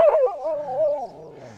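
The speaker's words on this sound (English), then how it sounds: "She's quite a timid little dog" A timid sled dog whimpers in a long, wavering whine that rises and falls for over a second, close and fairly loud, then trails off softly.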